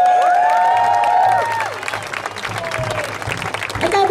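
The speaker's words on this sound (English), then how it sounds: "Another round of applause for the organizers and volunteers, please." Applause and cheering from a crowd at the first Steinbach Pride event, honoring the organizers and volunteers. Loud, steady clapping fades slightly after the first second and a half, with scattered shouts and whistles through it.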